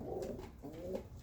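A pigeon coos softly nearby in a couple of low, rounded phrases with a brief pause between them, faint and unaccompanied by talk.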